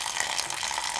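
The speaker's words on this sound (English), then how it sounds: "you can add a bit of water. I'm just gonna, like, waterfall this from up here." Water poured from a height onto sphagnum moss, a steady splashing trickle like a small waterfall that runs alone and fairly close throughout the brief moment.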